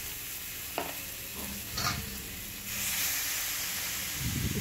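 Turmeric, coriander and cumin powder fry with vegetables in a pan, giving a steady close sizzle and hiss with a few stirring scrapes and a brief louder burst near the end.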